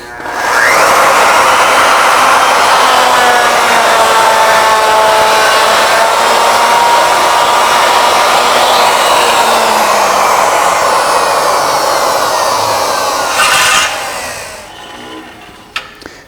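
Ornamental mill running a cut around the end of a workpiece to form a bead, a steady loud whirring motor drone with a faint rising whine, holding for about thirteen seconds before winding down and stopping.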